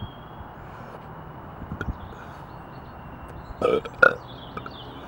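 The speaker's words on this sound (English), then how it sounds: "And My Protein coffee caramel burps." Two quick burps after drinking My Protein caramel coffee, close and moderately loud, arriving in succession near the end over a quiet room hum with a few faint knocks earlier.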